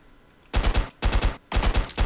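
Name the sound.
shotgun fire in Stick Arena Dimensions video game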